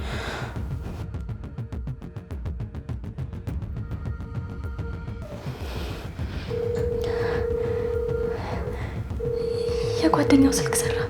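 A telephone dialing a call, with a rapid series of short key tones followed by longer repeated ringback tones, heard under people talking.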